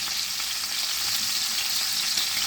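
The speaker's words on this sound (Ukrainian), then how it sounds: "Зараз смажу з двох сторон, викладу у чавничок" Pork ribs fry in a pan with a steady, close sizzling hiss and faint crackles throughout, with no talking.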